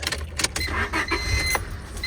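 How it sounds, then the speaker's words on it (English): A 1998 Honda Civic EX engine cranks and turns over close by, a low steady rumble with sharp clicks and rattles on top. "Make sure the car starts."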